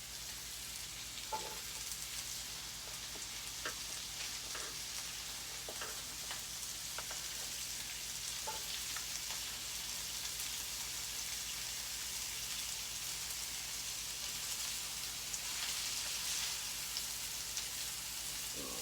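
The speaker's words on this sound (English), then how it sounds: "let these green onions brown a little" Green onions fry in a pan for a Sunday dinner of smothered meatballs, giving a steady, loud, rain-like sizzle with scattered faint pops and no speech.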